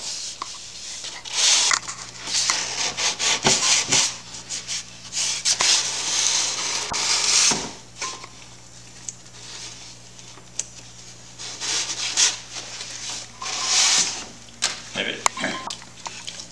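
Close-up sanding by hand over the fabric covering of a 1/4 scale Piper Cub model airplane, a steady scratchy rubbing in bursts with short pauses and a low hum beneath.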